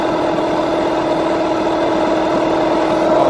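A Yamaha 9.9/15hp outboard motor idles after tuning, a steady, close mechanical drone with a fast even rumble and no talk.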